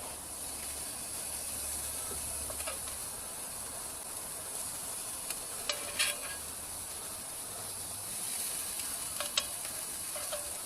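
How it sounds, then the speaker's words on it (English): Sliced beef simmering in beef broth in a pan for Philly cheese steak gives off a faint, steady sizzle and hiss with occasional small pops, heard alone at low volume. "I can hear that sizzle."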